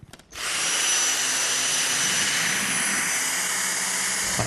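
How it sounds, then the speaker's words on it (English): A Dyson cordless vacuum cleaner with a V6 motor, two-tier cyclones and carbon fibre bristles runs on a hard floor, starting up abruptly and then holding a loud, steady, high-pitched whine. "So the combination of the V6 motor, the two-tier cyclones and the carbon fibre bristles means we can achieve really effective fine dust pickup on hard floors."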